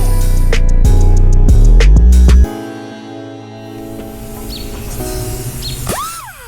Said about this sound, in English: now I take my cutoff wheel and cut this off